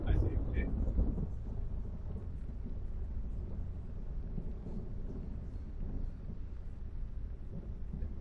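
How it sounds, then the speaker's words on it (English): Thunder in the horror video game Layers of Fear rolls as a low rumble that starts loud and then settles into a sustained murky drone, with faint speech-like sounds beneath it. "Thunder."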